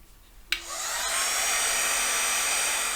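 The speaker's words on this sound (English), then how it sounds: "And then I'm going to dry this with my heat tool." A heat tool switches on with a click and blows steadily, drying a spritzed mixed-media card background, a close, even whooshing hum lasting to the end with no talk.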